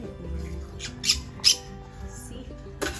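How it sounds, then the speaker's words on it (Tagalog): A green-cheeked parrot gives a few sharp, shrill squawks close by, the loudest pair coming about a second into the clip and another near the end, over a low background with faint voices. "This is my green cheek parrot."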